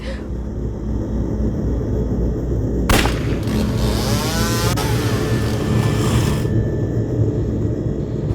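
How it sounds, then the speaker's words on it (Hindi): A motorbike speeds past nearby with a sharp bang from its burst silencer, engine noise swelling and fading over a steady background hum. "यहाँ से एक बाइक स्पीड से गई, लगता है साइलेंसर फट गया होगा उसका"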